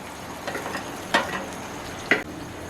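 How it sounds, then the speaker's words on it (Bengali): Fried chicken is added to a pan of garlic chicken sauce with a little water, bringing a steady low sizzle and a couple of sharper clatters and splashes as the pieces go in. "এবার দিয়ে দেব ভেজে রাখা চিকেন"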